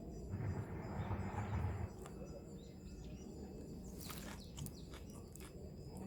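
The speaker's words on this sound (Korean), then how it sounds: "새소리도 들리고" Faint, scattered bird chirps over a quiet outdoor hum on a fine, breezy day, with a few thin tweets clustered near the end and a low rumble early on.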